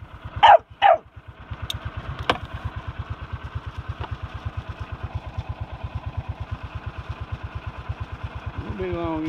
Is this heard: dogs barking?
yes